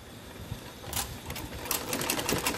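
A sewing machine stitches salwar fabric at home, a faint, rapid mechanical chatter running in short bursts close by.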